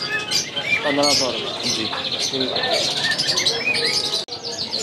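Pahadi parrots at a bird shop, a breeder pair among other caged birds, giving repeated sharp chirps and squawks that layer over one another, with people talking nearby.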